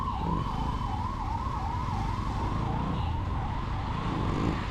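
Ambulance siren wailing in a steady, rising and falling sweep on a road near Karamadai, Coimbatore, loud and close throughout, over continuous traffic and engine rumble.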